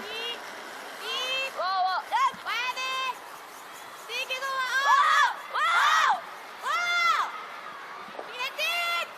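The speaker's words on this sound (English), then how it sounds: "there's a whole bunch of crowd noise happening during the shot" Fans at a women's world curling championship match between China and Korea chant and cheer in rhythmic bursts, loud sung vocal phrases repeating with short pauses between, over a low arena murmur.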